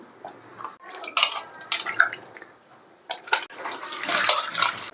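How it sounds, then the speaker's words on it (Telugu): Water sloshes and splashes in a bowl as tomatoes are rinsed, with intermittent bursts and light clatter, close by and without talk. "ఇప్పుడైతే టమాటాలు వాటర్లో వేసి కడిగేసుకుందారు మనం"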